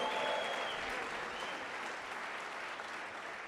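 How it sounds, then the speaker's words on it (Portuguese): Church congregation at a national conference applauding and cheering for Jesus during a morning service, a broad wash of clapping and shouts from a large crowd, steady and slowly easing. "dar um grito e um aplauso ao Senhor Jesus nessa manhã"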